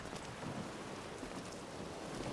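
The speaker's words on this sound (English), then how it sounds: "It's pouring rain." Steady pouring rain in the video game Bioshock Infinite, a dense continuous hiss of heavy downpour with no voices over it.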